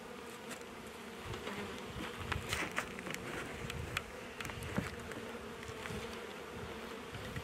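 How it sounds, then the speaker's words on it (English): Honey bees buzz steadily around an open hive being inspected, a dense continuous drone with scattered individual bees zipping close by, no voices. "Oh yeah, there's a lot of bees in this one too."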